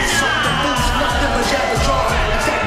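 A Canadian wrestling crowd at an MLP Wrestling event cheers and whoops for Mike Santana's entrance, a loud, continuous roar of many voices with yells rising throughout.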